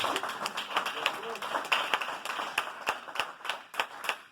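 Worshippers in a church clap their hands in a loose rhythmic beat, sharp individual claps standing out over a crowd of hands, moderately close, with voices faintly mixed in beneath.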